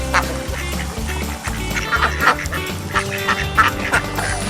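Ducks at an itik flying race quack and honk in a busy, overlapping chorus, with repeated calls close by over a steady low rumble of background activity.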